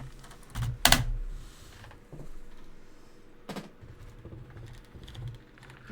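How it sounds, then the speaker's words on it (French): Scattered keystrokes on a computer keyboard, a few sharp louder taps and softer clicks spread irregularly over a quiet room background, with no talking. "Je vais essayer avec l'autre clavier."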